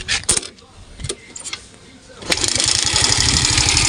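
A Suzuki Smash 115 motorcycle with a stock exhaust pipe, big elbow and stock air cleaner, is heard close by: a few clicks and brief bursts at first, then the engine catches and runs with a loud, steady, rapid exhaust putter.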